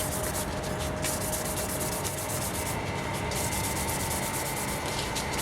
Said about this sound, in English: you could still go ahead and sand it, because when you rough up that area, it's gonna help the epoxy adhere better